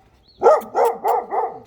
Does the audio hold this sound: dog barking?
yes